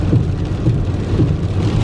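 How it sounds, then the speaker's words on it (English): Heavy rain from Hurricane Irma pounds a vehicle driving on a Florida highway, making a loud, dense, continuous roar with low road rumble underneath. "Rain has picked up considerably."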